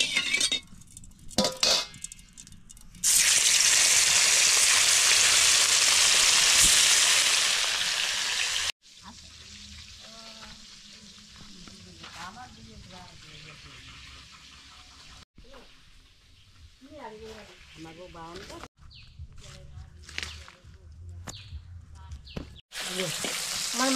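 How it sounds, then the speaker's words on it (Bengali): Fish sizzles and fries in hot oil in a wok, with a loud sustained crackle early on and quieter sizzling later, broken by clinks of utensils and brief talking. "তেল গরম হয়ে গেছে, এবার মাছ দিয়ে দেবো।"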